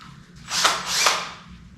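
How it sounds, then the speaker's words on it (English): A power drill spins a brush attachment across a ski base in one short whirring pass, the buzzing brush swelling twice and then easing off, close and fairly loud. "You can use a drill to brush your skis."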